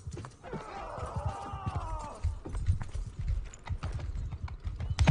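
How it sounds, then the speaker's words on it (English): Rhythmic clip-clop of horse hooves trotting steadily in the video game Mount & Blade II: Bannerlord, with a tonal whinny-like sound early on and mixed game background noise. "Horse."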